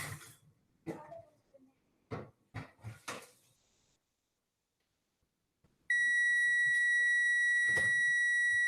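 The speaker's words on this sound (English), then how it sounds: "there's my reminder timer to take those croutons out" A kitchen reminder timer beeps in one steady, loud electronic tone that holds for the last few seconds, after a few coughs and throat clearings and a stretch of quiet.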